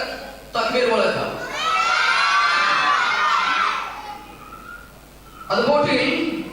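An audience at a school prize giving shouts a loud takbir in unison, a sustained swell of massed voices that fades, then a fresh burst of crowd chanting near the end.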